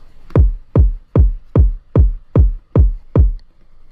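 Kick drums in an electronic track's build section hit eight times at a steady, even pulse, loud and deep with a quick pitch drop on each thump, with nothing else around them.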